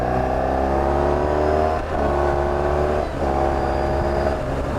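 A motorbike engine heard from the rider's position, holding a steady, fairly loud drone that dips briefly twice as gears are changed and then picks back up.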